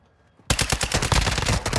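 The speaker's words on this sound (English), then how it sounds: "You are taking effective fire." Call of Duty Warzone DMZ gunfire erupts after a quiet half second into a fast, loud automatic burst of closely spaced shots that rattle on to the end, with no talk.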